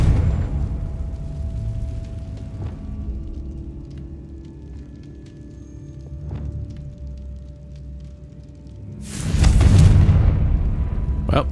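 A Confringo explosive spell goes off in a video game, one loud, heavy blast that erupts near the end after a stretch of low, quiet ambience and a few faint clicks.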